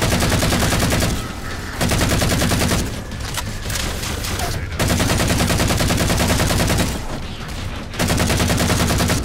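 Sustained heavy gunfire in the Halo 4 shooter, loud continuous automatic bursts with brief pauses between volleys, running for several seconds with no talking.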